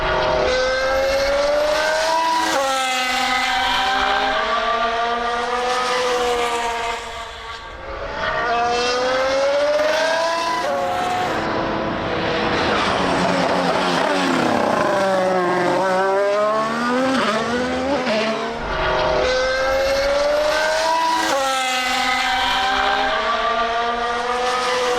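Formula 1 race cars in a Lego animation of the 2021 British sprint scream past in repeated loud engine passes, their whining pitch rising and falling as each car roars by, with no one talking.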